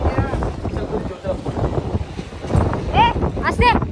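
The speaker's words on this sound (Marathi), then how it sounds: "वारा सुटलाय वारा" Wind gusts across the microphone outdoors as rain sets in, a constant rough rumbling roar that swells and dips, with people talking over it and a voice near the end.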